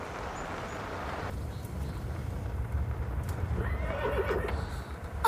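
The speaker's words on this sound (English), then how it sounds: "A horse!" A horse whinnies outdoors in a remote spot, a rising neigh near the end over steady wind and low rumbling background noise, moderately close.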